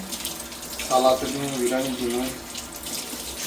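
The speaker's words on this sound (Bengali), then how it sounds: "অনেকগুলা ধনে পাতা ধুয়ে নিতেছে" Tap water runs into a sink as a large bunch of coriander leaves is rinsed, a steady close splashing flow that swells briefly, with faint voices in the background.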